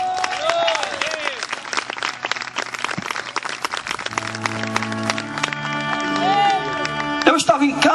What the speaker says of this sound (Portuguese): Se você é livre, aplauda o nome do Senhor.